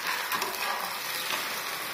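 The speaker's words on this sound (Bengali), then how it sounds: "সিম্পল ডিম ভাজা" Two eggs fry plainly in a pan with no onion added, giving a steady close sizzle and crackle that holds throughout.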